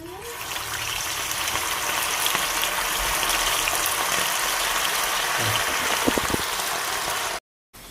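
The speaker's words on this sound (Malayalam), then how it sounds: "നമുക്ക് ഇത് എണ്ണ ഒഴിച്ച് നല്ലപോലെ ഇതിനെ വറുത്ത് റെഡിയാക്കി എടുക്കാം" Chicken pieces fry in oil for a chicken pickle, giving a steady, loud, broadband hiss of bubbling oil that runs unbroken through the whole stretch with no voices over it.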